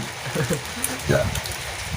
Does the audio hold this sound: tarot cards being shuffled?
no